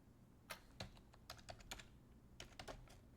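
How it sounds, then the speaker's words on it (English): A search query typed on a computer keyboard, rapid clicking keystrokes in two quick bursts with a short pause between, close and clear over a low background hum. "let me type in"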